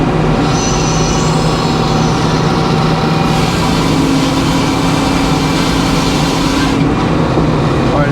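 A sawmill blade cuts through a maple log in a loud, continuous grinding roar that stays steady throughout, with a faint high squeal partway through and no talking.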